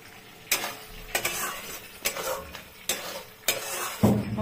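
Food being stirred slowly in a kadai for restaurant-style butter chicken with fried onions, a scraping stir repeating about every second over a low sizzle, close and clear with no talk.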